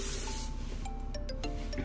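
Hairspray hisses from an aerosol can onto styled hair, a steady bright spray for about half a second, followed by quiet soft rubbing and faint clicks.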